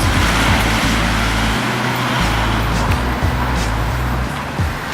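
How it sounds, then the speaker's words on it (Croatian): A car passes by on a road, a loud, broad rumble of engine and tyre noise filling the whole stretch and easing slightly at the end. "U koji auto je upravo prošao?"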